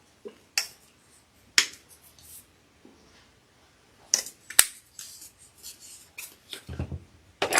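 Sharp snipping sounds of scissors, a few isolated cuts followed by a quicker cluster of snips, close and fairly quiet with short pauses between them.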